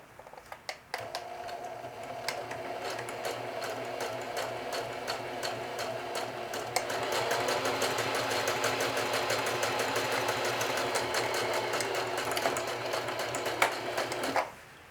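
Sewing machine stitching the last row of a watch pocket: a short start, then a fast, even run of needle strokes that speeds up midway and keeps a steady mechanical rattle before stopping abruptly, close and clear.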